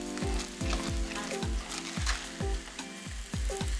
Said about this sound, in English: we're just gonna saute this a little more